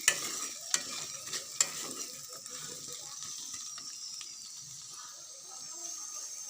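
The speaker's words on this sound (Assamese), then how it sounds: "এতিয়া ইয়াত পানী দি দিছোঁ।" A pan of pigeon meat sizzles steadily with faint hissing, a few sharp clinks of a utensil early on, and a soft watery spatter as water is poured into the hot pan.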